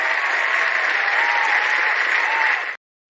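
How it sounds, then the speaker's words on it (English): A recorded applause sound effect is played during a live word-sprint stream, giving a steady crowd of clapping that holds loud for nearly three seconds and then cuts off abruptly into silence. "Am I going to play my applause?"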